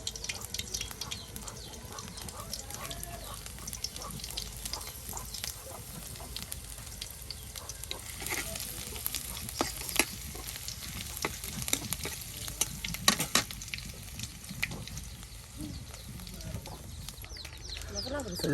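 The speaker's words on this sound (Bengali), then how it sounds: "দেখুন তেলের সাথে আপনার রসুনগুলো একদম ভেজে নেওয়া হলো" Garlic paste frying in oil in a rural village-style kitchen, a continuous dense crackling sizzle with stirring scrapes, steady and close throughout, with some faint background sound.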